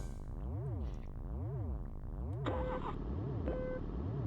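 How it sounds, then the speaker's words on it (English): Spaceship engine sounds from the N64 game Lego Racers on an alien rally asteroid course, a looping wavering synthetic drone that repeatedly rises and falls in pitch, with short electronic beeps layered in partway through. "Nice spaceshipy sounds."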